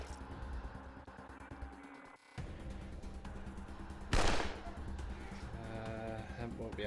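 Gunfire in the Wasteland 2 Director's Cut video game, with single shots and short bursts cracking over a continuous music and effects bed, and one louder blast near the middle, all at steady game volume.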